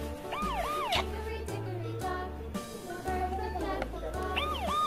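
A Saypen talking book's toy police car plays a synthetic siren with repeated rising and falling wails over a steady electronic jingle, loud and continuous.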